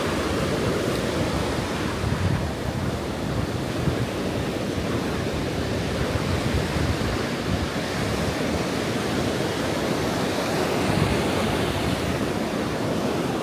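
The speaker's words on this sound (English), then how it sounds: "if you're lucky enough to get a house on the ocean here, this sound lulls you to sleep at night" Steady roar of ocean surf breaking on a Long Beach Island beach, continuous and broadband with no voices, waves washing in one after another.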